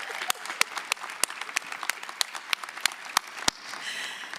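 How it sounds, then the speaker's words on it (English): A small group claps steadily at a university presidential inauguration after a funk band, individual sharp claps standing out against a busy patter of applause that thins near the end. "Huge round of applause for Professor Cook and our wonderful funk band."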